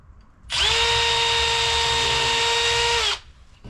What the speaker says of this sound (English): I'll drill the hole